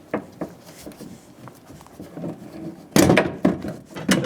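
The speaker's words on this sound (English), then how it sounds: "We're going to squeeze the tabs and push the plastic through the door." Plastic clip tabs on a 2003-2008 Honda Pilot rear door panel, squeezed and pushed through during a window regulator replacement, producing a few sharp, close plastic snaps and knocks after a stretch of quieter handling noise.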